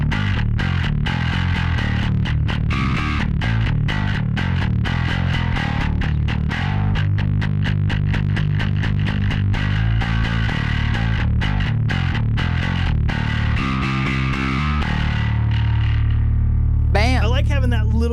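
A distorted bass guitar in drop D, from a German Warwick or Spector, plays steady, punchy repeated notes with a gritty, driven tone, treble pushed, loud and continuous throughout.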